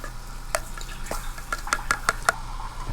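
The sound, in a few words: stirring baked beans in a pot on a wood cookstove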